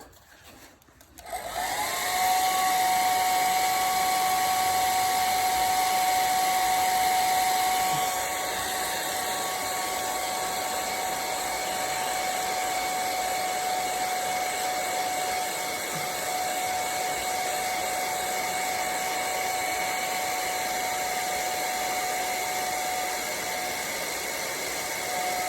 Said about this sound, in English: I'm going to blast it again with my hairdryer to quickly get it nice and dry.